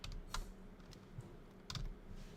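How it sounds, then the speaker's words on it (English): Soft, sparse keystrokes on a computer keyboard come in small irregular bursts, quiet and close, with no talking. "what I'm doing here is typing out the diary so that I can search through it"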